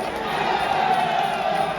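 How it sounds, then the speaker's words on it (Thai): Crowd cheering at a Muay Thai bout between Fah Wanmai Chor Thaiset and Nampu Changnoonsisaket, a steady loud wash of massed voices filling the whole moment without pauses. "เสียงเชียร์ดังมากครับ"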